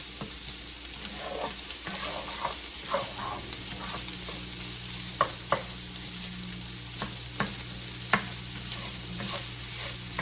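Ground Italian sausage browning in a pan, a steady crackling sizzle with intermittent scrapes and taps as a spatula breaks up the meat, close and continuous.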